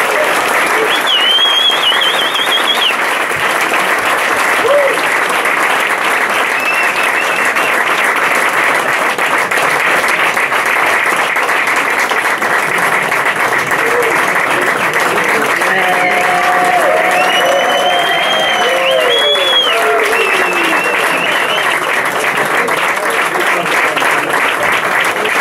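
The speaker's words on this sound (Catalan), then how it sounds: "Un aplaudiment." A live blues concert audience in Barcelona applauds loudly and steadily as the band is introduced, a dense wash of clapping with some crowd noise that lasts throughout.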